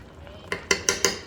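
A utensil scrapes and taps in an electric frying pan while cream of mushroom soup is spread around, giving four sharp clinks in quick succession after a quiet start.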